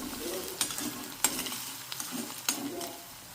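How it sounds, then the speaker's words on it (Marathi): Chopped onion frying in a pan, a soft continuous sizzle broken by a few sharp stirring clacks of a spoon against the pan, close and with no voices. "कांदा छान शिजला जातोय"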